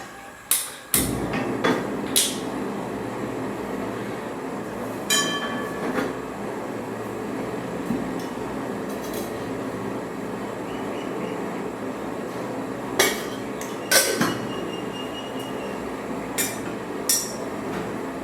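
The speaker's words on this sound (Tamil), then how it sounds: "இது எல்லாத்தையும் போட்டு நைஸாக அரைச்சிட்டு வந்துடலாங்க." A mixer grinder runs continuously while grinding spices for Tamil mor kuzhambu, a steady dense whirring roar punctuated by sharp clattering knocks and rattles, with no voices.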